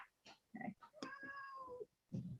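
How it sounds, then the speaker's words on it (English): A domestic cat meows several times, close and clear, one long drawn-out call among shorter ones, with no talk over it. "For that kitty, that's my mommy's kitty."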